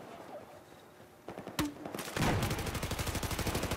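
MG4 light machine gun fire in Battlefield 4, a rapid sustained burst of loud, evenly spaced shots following a few scattered single reports.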